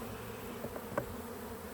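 Worker honeybees buzzing inside an open hive where fresh comb is being built, a soft steady hum at low level with a brief louder buzz from one bee passing close.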